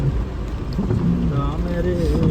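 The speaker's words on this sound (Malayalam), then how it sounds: "മഴയും വെള്ളവും" Steady monsoon rain pours down at Banasura Sagar Dam in Wayanad, with a low rumble beneath it and a faint voice heard briefly in the background.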